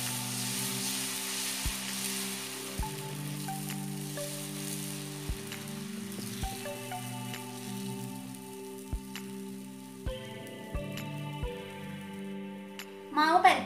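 Dosa batter poured onto a hot, oiled griddle gives a soft, faint sizzle beneath steady background music, with occasional light taps sounding through.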